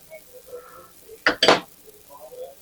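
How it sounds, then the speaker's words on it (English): A little spoon scrapes and digs into a baked mock apple pie in a dish, two short close scooping sounds in quick succession amid faint background murmur. "So I'll just get a little spoon."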